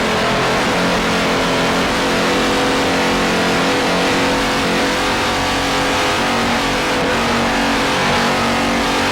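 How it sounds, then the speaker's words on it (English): Two 930 hp Mercury inboard engines drive the racing powerboat Heavy Metal in the Chesapeake Challenge, heard as a loud, steady, dense engine roar from onboard that holds without a break for the whole stretch. "Heavy Metal powered by two 930 horsepower Mercury inboards."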